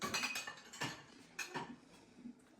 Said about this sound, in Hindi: मजीद कुछ 2-4 प्लेट्स थी, तो मैंने कहा ये भी डाल ही देते हैं